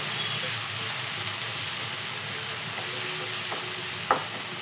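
A tomato mixture for capsicum curry fries in a pan with a continuous bright sizzle, while a utensil stirs it, adding occasional soft scrapes and clicks.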